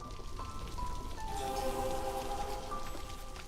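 Steady rain pours over the settlement in the city-building video game Against the Storm as a storm sets in, a continuous hiss with faint tonal chimes rising above it midway.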